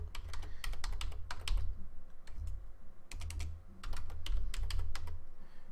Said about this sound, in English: I'm gonna type in graphical genius